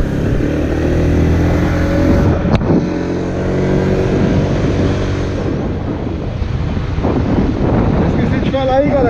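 Honda PCX scooter accelerating on a highway toward Aracaju, Sergipe, with a steady engine drone and heavy wind rush against the microphone, loud and continuous throughout.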